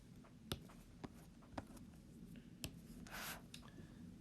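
Pen or marker writing on a surface gives faint, sparse taps and short scratchy strokes, with one longer rub, in a quiet room for a math lesson on adding and subtracting fractions.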